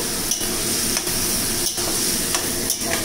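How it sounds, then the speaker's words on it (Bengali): Water poured into a pan of yardlong beans cooking on the stove, giving a steady, fairly loud simmering sizzle with a few light clinks of utensils and pan. No one speaks. "তারপরে আমি পরিমাণ মতন জল দিয়ে দেবো।"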